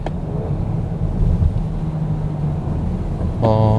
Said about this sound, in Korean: 이제 엔진 소리만 이제 운전자가 체감을 할 수 있게끔 들어오고 있고요